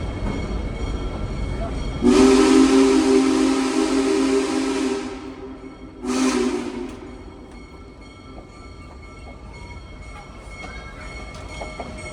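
A Big Boy #401 steam locomotive whistle blows one long blast, then a shorter second toot, over steady rumbling train noise in the background.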